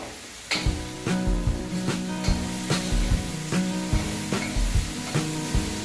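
Raw banana vegetable sizzling in a pan as it is stirred, a steady loud hiss broken by regular scraping strokes of the spoon about every half second.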